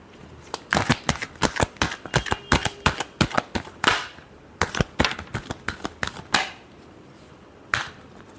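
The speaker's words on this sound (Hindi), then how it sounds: "Last shuffle." Tarot cards being shuffled by hand, a close run of sharp riffling snaps and flicks in quick bursts, then sparser taps with quiet gaps toward the end.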